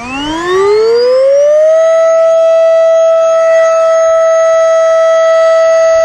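Flextail Evo electric pump inflating a kayak, its motor spinning up with a rising siren-like whine that settles into a loud, steady high-pitched drone.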